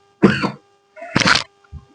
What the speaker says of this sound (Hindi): क्योंकि खांसी है